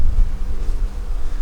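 Honey bees drone from a strong hive just cracked open for a winter inspection, a dense low buzz that holds steady and close throughout.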